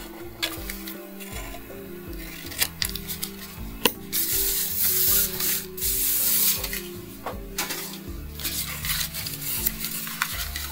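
A worn blade scrapes and bevels the glue tabs of a cardboard piece, making irregular rasping strokes and short scuffs with scattered taps. The sounds are close and fairly quiet.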